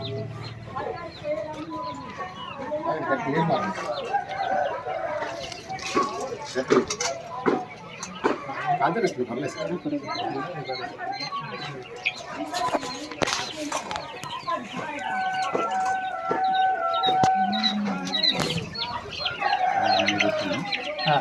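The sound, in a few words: quails calling in a quail farm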